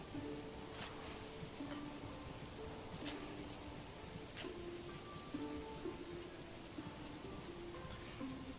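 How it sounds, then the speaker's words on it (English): Steady rain falls in the Manor Lords village game, a constant hiss with no gaps across the whole stretch, joined by soft tonal game ambience. "Oh, look at the rain."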